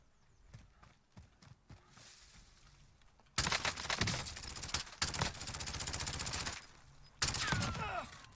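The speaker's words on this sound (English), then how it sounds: "Now I am getting shot at." Gunfire in Call of Duty Warzone, with scattered soft taps and footsteps giving way to sustained bursts of rapid automatic fire, a short pause, then another loud burst.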